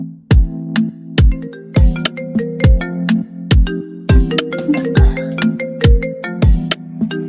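A phone ringtone for an incoming call plays loud and close, a looping electronic melody driven by regular punchy beats with bright tonal notes repeating throughout.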